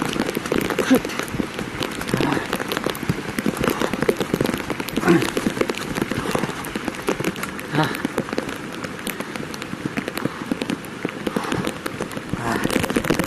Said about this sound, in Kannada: ಸಿಕ್ಕಾಪಟ್ಟೆ ಮಳೆ ಬರೋದೈತಿ